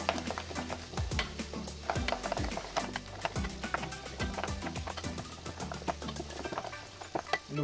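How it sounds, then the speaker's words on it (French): Sweet potato purée, seasoned with salt and pepper, is beaten vigorously in a bowl until smooth, producing a steady run of close, quick scraping and tapping strokes with a soft, sticky undertone. "On va mélanger un bon coup pour avoir une purée bien lisse."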